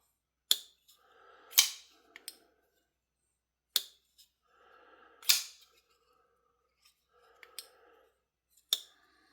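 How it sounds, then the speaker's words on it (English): Twosun TS461 folding knife flicked open and shut repeatedly: sharp metallic snaps and clicks, each followed by a brief ringing slide, close-up and isolated against silence. "Really nice, smooth, buttery smooth action."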